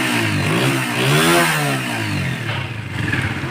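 A Honda CG125 motorcycle engine revs up as the throttle opens, rising in pitch, then falls back and settles into a rough idle. It is loud and close.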